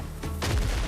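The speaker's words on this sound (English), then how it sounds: "Whoa! Bombs." Bombs bursting in the Windrose video game, a quick close boom with a crackling, fusillade-like rattle, loud and brief.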